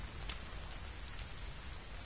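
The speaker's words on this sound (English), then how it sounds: "Oh good, it's raining again." Steady, soft rain pattering continuously in the survival game The Forest, a faint even hiss with a few slightly sharper drops, no voices.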